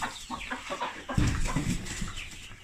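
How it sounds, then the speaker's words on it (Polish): Farmyard roosters and hens squabble in a quick burst of clucks and squawks, close and loud, with a sharper outburst midway through the short scuffle. "Nie tylko koguty warczą z kurami."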